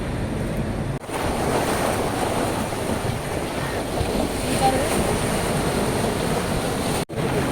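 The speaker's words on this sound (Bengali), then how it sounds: "প্রচণ্ড জল আর প্রচণ্ড স্রোত চলে" Rough sea at Andaman during heavy rain, with strong current and waves surging in a continuous loud roar mixed with wind buffeting the microphone.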